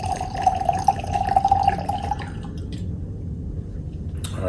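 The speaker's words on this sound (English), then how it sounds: "So let's go ahead and pour this up." Jorongo tequila pouring from a bottle, a steady trickling stream with a wet gurgle for about two seconds before it thins out and stops.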